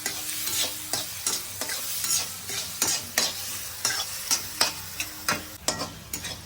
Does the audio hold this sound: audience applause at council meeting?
no